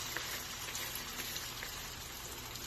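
Vegetable and egg batter sizzling in a hot oiled frying pan, a steady, dense hiss and crackle that holds evenly throughout without a break.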